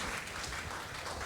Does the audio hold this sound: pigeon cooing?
no